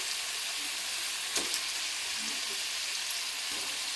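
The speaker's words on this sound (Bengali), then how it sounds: "কুমড়াটা দিয়েও কিছুক্ষণ ভাজবো।" Pumpkin sizzles in a pan along with potato and sweet potato, giving a soft, steady frying crackle with a brief stir or scrape midway, quiet and close, without talk.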